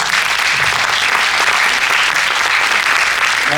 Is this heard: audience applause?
yes